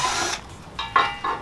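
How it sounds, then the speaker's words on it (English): Power drill whirring in short bursts while drilling holes during a car radio install in a 2020 Toyota 4Runner, one longer run followed by two quick spurts, close and fairly loud. "Drill 2 holes,"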